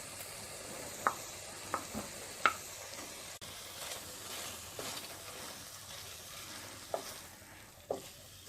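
Cooked rice is stirred into tomato and garam masala in a pan, with a soft continuous sizzle and occasional light taps and scrapes of the spoon, quiet and close, no talking.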